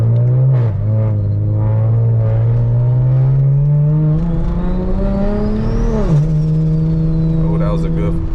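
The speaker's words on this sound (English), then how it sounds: "Oh, that was a good flutter." Single-turbo BMW 335i pulling through the gears from the driver's seat, engine note rising in pitch, then a sharp lift-off around six seconds with quick turbo flutter chatter, loud and close.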